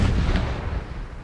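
Cannons loaded with canister shot fire in a Napoleon: Total War battle as Prussia, giving one loud, rumbling boom that fades over about a second.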